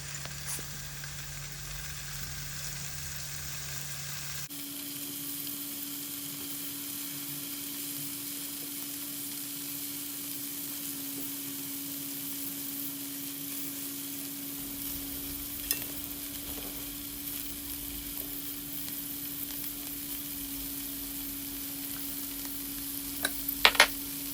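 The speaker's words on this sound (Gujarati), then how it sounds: "અને થોડોક ફાસ્ટ ગેસ રાખવાનો, જેથી તમારું પનીર અંદર શેકાય." Paneer pieces frying in ghee in a pan over a fairly high flame, a steady close sizzle that runs on throughout with a few faint clinks near the end.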